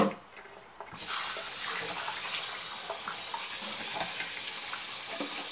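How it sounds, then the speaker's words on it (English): Cold water runs steadily from a kitchen tap into a sink while hard-boiled eggs are being cooled, a continuous close hiss that starts abruptly and holds at an even level. "put on your tap"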